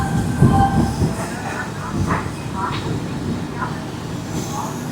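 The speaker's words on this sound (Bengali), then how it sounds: "নির্ধারিত সময় থেকে 1 ঘন্টা 25 মিনিট বিলম্বে কানপুর থেকে যাত্রা শুরু করলো 12311 আপ হাওড়া কালকা নেতাজি এক্সপ্রেস" The Howrah–Kalka Netaji Express pulls out of Kanpur Central station, with a heavy rolling rumble, rhythmic wheel clatter and faint squeals from the coaches, and voices faintly present.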